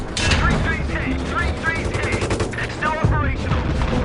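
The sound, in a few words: M240 coaxial machine gun firing from a tank, Battlefield 3 video game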